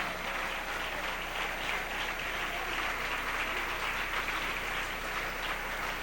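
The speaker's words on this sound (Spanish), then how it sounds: "Denle ese aplauso al Rey en esta hermosa mañana." A church congregation claps for the King during a morning service, a continuous, even wash of applause filling the room for several seconds without speech.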